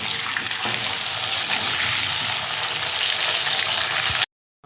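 Potatoes frying in hot oil after a whole-spice tempering of panch phoron, a steady dense sizzle holding close and loud without a break, then cutting off abruptly near the end.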